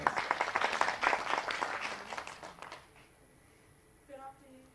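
Brief clapping at a TADHack Global 2016 event in South Africa, a loose burst of hand claps for nearly three seconds that thins and stops, followed by a short voice.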